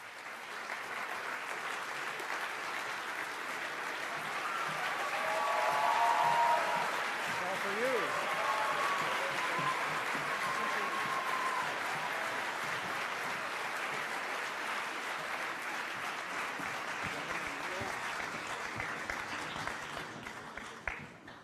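Audience applause welcoming speakers at a climate and economy conference, a sustained wash of clapping that swells midway and then carries on steadily for about twenty seconds.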